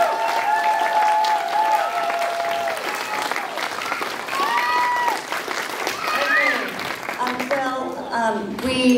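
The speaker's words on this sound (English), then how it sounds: "So let's give them one more round of applause" Audience applause after a 4th and 5th grade school choir's winter performance, a sustained round of clapping from a crowd, with children's voices and cheers rising over it throughout.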